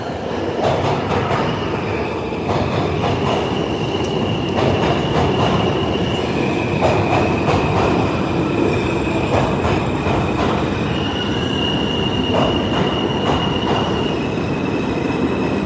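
New York City subway train running through a tunnel, a loud steady rumble with rhythmic clicks and rising, sustained squeals from the wheels, with no voices.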